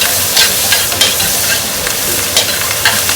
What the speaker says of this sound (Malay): Saya gunakan lebihan minyak goreng ikan bilis tadi. Dan kita masukkan bawang kita ni.